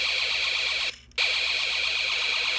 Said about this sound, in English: You'll notice that the intervals of the alarm are longer.